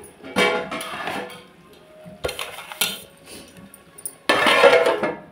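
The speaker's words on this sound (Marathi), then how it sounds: "झाकण मारून मी ह्याच्यावर आता" While Malvani-style mutton rassa cooks, a metal lid is set on a cooking pot with several sharp clanks and scraping clinks at uneven intervals, the last contact longer and louder, and no voices.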